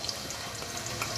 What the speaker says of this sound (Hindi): ऑयल गर्म होने के बाद इसमें डाल देंगे प्याज।